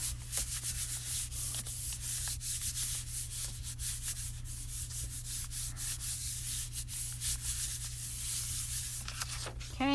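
A sheet of scrap paper is rubbed briskly back and forth over stamped background paper, a close, steady dry scuffing made of rapid repeated strokes under a faint low hum.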